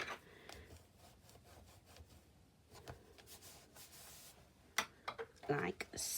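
Stampin' Up cardstock is folded over along a scored line for a long box, making soft, close rubbing and creasing rustles that end in a few sharper crinkles and taps.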